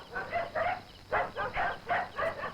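A dog barks in a rapid series of about seven sharp, fairly close barks in two bursts with a short pause between them, and no voices over it.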